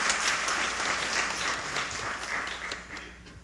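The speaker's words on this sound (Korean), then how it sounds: "다시 한번 우리 분열 찬양단의 수고의 박수를 드립니다." A church congregation at a Sunday worship service applauds its praise choir: dense, sustained clapping from a large crowd, loud and steady throughout before tapering slightly at the end, with no talk over it.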